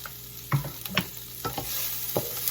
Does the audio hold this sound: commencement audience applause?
no